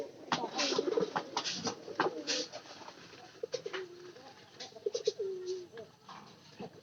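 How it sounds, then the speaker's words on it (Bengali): Pigeon cooing inside a tin-roofed coop, repeated soft close coos with fluttering rustles and scratching around them, fairly quiet. "এই টিনের ঘরে যে কবুতরটা আছে"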